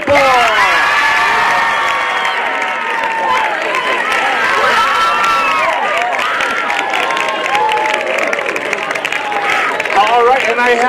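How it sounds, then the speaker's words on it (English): A crowd at a high school semester awards ceremony cheers and claps for the girls' basketball team, a loud continuous din of shouting voices and applause lasting the whole stretch. "Keep those rounds of applause going, girls, basketball!"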